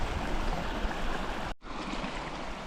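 A mountain creek near Mount Elbert rushes steadily in a broad, close wash of flowing water, with one very brief dropout partway through.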